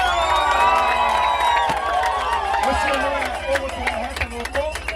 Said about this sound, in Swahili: Wapi makofi ya mheshimiwa Elijah Njoroge Koloria.